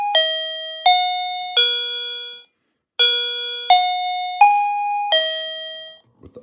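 KERUI wireless doorbell chime stepping through its song options, sounding a series of loud, clear electronic bell tones that ring and decay, with a brief pause partway and no voices.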